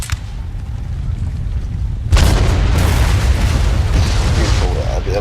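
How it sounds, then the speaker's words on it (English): Artillery bombardment and rockets in the Napoleon Total War video game, heard in a battle replay: a low rumble swells into a sudden loud blast, followed by sustained crackling booms with dense noise. "We're still under bombardment, which is always giving us plenty of fireworks in this fight."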